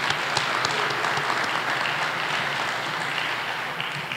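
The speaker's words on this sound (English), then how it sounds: "So I'd like to give her a round of applause." Audience applause for a guest at a press event naming a new women's basketball head coach, a dense, steady clapping that holds at an even level throughout and tapers very slightly at the end.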